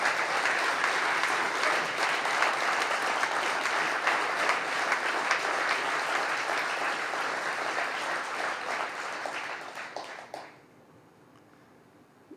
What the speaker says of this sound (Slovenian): In tukaj prosim en aplavz